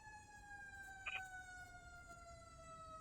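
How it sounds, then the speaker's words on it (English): An emergency vehicle siren wails in a steady drawn-out tone, faint and distant, with a short chirp partway through. "Another siren."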